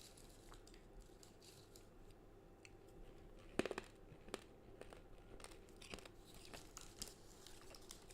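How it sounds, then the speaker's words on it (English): Hard sugar candy being crunched and chewed close up, giving a steady run of quiet crackling bites with a sharper cluster of crunches near the middle, no talking. "it's just like hard, crunchy sugar."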